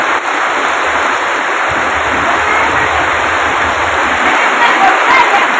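Heavy monsoon rain pours down hard enough to flood a house, a loud, unbroken hiss of water that fills the whole stretch without letting up.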